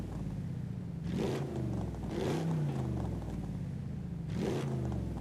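Car sport exhaust in Forza Horizon 5 revs repeatedly, three rising engine blips over a steady low idle rumble, loud and close with no talk.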